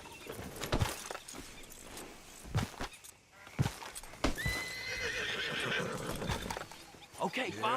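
A horse neighs and whinnies with clip-clopping hooves on ground nearby, the sounds coming in bursts while people talk over them.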